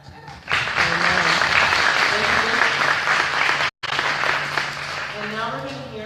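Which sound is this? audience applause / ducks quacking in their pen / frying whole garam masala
audience applause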